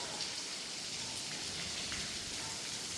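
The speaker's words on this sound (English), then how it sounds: "I'm going to wait out this rain and run back to the house" Steady rain falls outdoors near a house, a continuous even hiss of drops on surfaces that stays constant throughout, with no voices.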